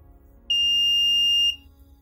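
A GPS women's safety device with a fingerprint sensor sounds its alarm when the finger is lifted: a single steady, piercing electronic beep lasting about one second, loud and close, over faint background hum.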